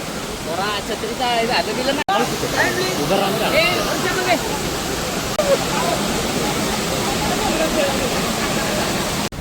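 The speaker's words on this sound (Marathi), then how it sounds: "धबधबा बघा" Ozerde waterfall at Koynanagar roaring steadily close by, a dense continuous rush of falling water with voices of a group talking over it.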